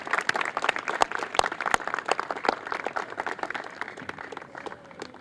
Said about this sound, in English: Let's give a round of applause for our new playground here in Villa Victoria.